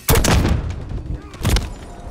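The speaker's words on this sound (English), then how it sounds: "The old shotgun, bro." Shotgun blasts from Call of Duty Modern Warfare 3 gameplay: two loud, broadband booms about 1.5 seconds apart, each with a short rumbling tail, set among faint game background noise.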